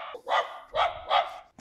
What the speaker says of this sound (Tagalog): So, yan, may aso